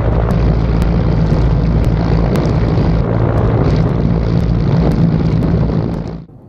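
Loud, steady rotor and engine drone with low thudding harmonics, continuous throughout before cutting off abruptly at the end.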